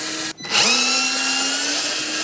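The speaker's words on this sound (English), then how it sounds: "let's start down here with the 220 Torx screws and we'll take them out" A power tool whirs steadily and close while backing out Torx screws from BMW F45/F46 interior trim, a short burst after a brief pause, with no talk.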